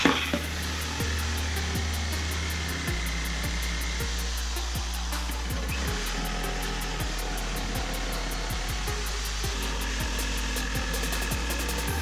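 A Bosch power tool fitted with a T-shank blade cuts through wood for a fish-shaped bench, a continuous motor whine overlaid with rapid rhythmic ticking from the blade, loud and close with no voices.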